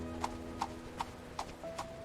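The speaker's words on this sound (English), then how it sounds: "Horse-drawn carriages formed the basis of transportation." Horse hooves from a horse-drawn carriage clip-clop on a street in 1800s London, five evenly spaced moderate strikes over a steady low background hum.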